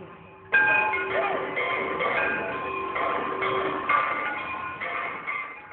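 Conch shells and temple bells at the Ganga aarti on the riverbank in Haridwar: a sustained, steady tonal drone with ringing overtones that starts suddenly and holds loud throughout, swelling slightly at moments.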